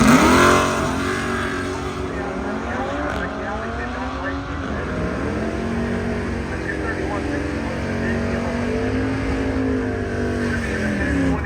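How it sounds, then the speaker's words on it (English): A 1972 Chevy Monte Carlo drag car accelerates hard down the strip at Cordova Dragway, its engine roaring loud and steady with rising pitch sweeps as it pulls through the gears, while an announcer talks over it. "Ethan Hafler's Chevy Monte Carlo is the 1972 model."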